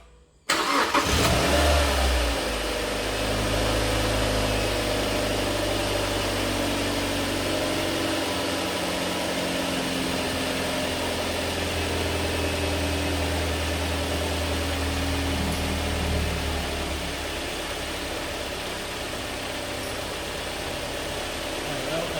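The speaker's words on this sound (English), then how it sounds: "I'm just going to start it up quick and let it run for 10 seconds" A Mazda MX5 engine cranks and catches after an oil and filter change, then settles into a steady, even idle that runs on for about twenty seconds and eases slightly quieter toward the end.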